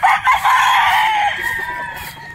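Boston Roundhead roosters with straight combs crow loudly nearby in a long drawn-out call, with a little clucking at the end.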